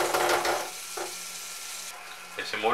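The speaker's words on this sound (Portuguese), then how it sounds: "Vamos começar aqui com a manteiga, tá? Vamos dar uma derretida aqui nessa manteiga." Butter melting in a pan for a bechamel sauce, a soft steady sizzle with brief louder bursts at the start and end, heard alone and fairly close.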